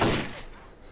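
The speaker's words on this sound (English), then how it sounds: "Oh, that's a grenade." A grenade explosion in the video game S.T.A.L.K.E.R. Clear Sky, a single loud close boom that decays over about a second.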